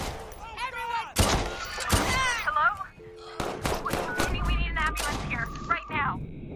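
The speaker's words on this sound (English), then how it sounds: "Someone's firing off a gun!" Burst of video game gunfire mixed with shouting voices and an alarm-like tone, with loud chaotic in-game action and people talking over it.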